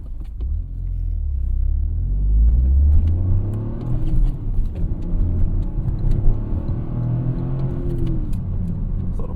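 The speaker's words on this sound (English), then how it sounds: "You got to rev this one out, just ring it all the way out to get to the power band." Toyota GR Corolla engine revving hard as the car accelerates out of a corner, a loud, continuous rising engine roar with a rumbling low end that stays steady throughout.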